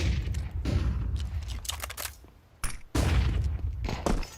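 Rapid bursts of gunfire from a Counter-Strike match at a BLAST Bounty esports tournament, loud and repeated with a brief lull near the middle before the shooting resumes.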